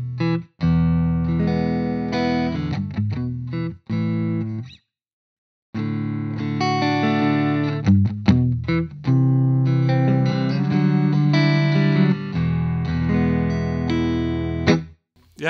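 Clean electric guitar played through an H&K Spirit Nano amp with no reverb, ringing chords and single notes close and loud, broken by a few short pauses, no talking.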